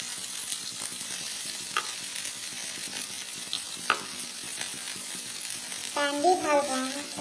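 Butter, garlic, onion and chicken fry over a low flame in a pan, giving a steady, close sizzle with faint stirring scrapes; a voice speaks briefly near the end.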